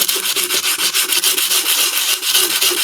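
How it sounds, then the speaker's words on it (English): Rhythmic, rasping strokes of sandpaper rubbed back and forth over wood, close and steady, about three strokes per second with no talking. "So when you are sanding"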